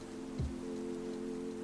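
Rain weather in a Pokémon VGC video game battle comes through as a soft, steady hiss over a low sustained hum, with one brief dull thump early on, quiet and without talk.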